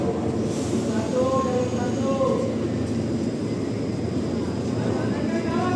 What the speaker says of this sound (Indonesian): Keretanya udah berangkat lagi.